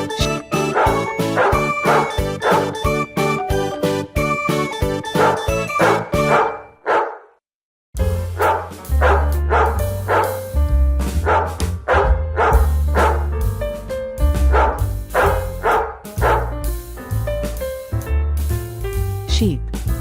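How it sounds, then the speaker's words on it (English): A dog barks a few times over loud, bouncy background music. The music dominates the mix throughout, with one brief silent gap. "Dog."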